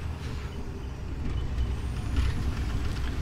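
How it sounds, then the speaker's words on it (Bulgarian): A heavy road vehicle rumbles past on an empty road, a low, steady engine drone that builds gradually and stays loud throughout, with a faint hiss on top. "А, една кола отива, още една."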